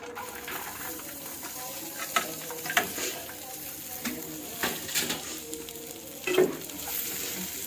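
Dry fruits fry in hot homemade ghee, a soft, fairly quiet sizzle with occasional stirring scrapes and light clinks, no talking.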